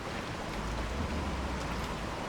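A rainstorm in the video game Resident Evil 4: a steady, dense hiss of falling rain that runs evenly from start to end, with no talk.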